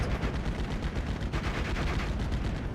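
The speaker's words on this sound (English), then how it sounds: "We got transmission damage onto the Sherman tank from this Pack 38, and then will result in death by a follow-up shot" Dense battle din in a video game, with a Pak 38 anti-tank gun firing at a Sherman tank amid continuous overlapping gunfire and explosions, loud and constant with no clear separate shots.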